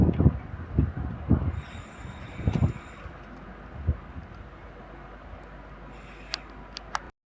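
Avanti West Coast train, a Class 390 set numbered 391.32, pulling out of Crewe station on the West Coast Main Line for London Euston. Low rumbling wheel thumps come first, then it fades into a quieter rolling hum marked by a few sharp high squeals.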